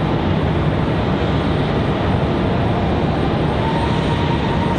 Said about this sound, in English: Just couldn't pass up this JetBlue A220.